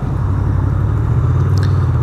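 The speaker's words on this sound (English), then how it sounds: "It's got a lovely, deep, throaty rumble to it." A Honda VFR800X Crossrunner motorcycle, a 2018 model with a VFR800 engine, gives off a steady, deep low rumble that stays loud and even throughout the short stretch, with no voices.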